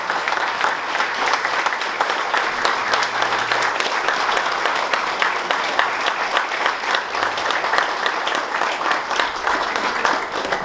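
Sustained, dense applause from a large audience at an anniversary gathering of an anti-alcoholism association, steady rhythmic clapping filling the room for about ten seconds.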